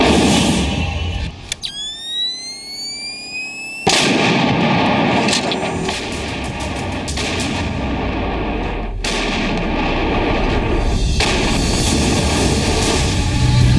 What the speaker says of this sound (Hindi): एलओसी पर कारगिल की सुनसान पहाड़ियां बोफोर्स तोप से निकले गोलों से गूंज रही थी।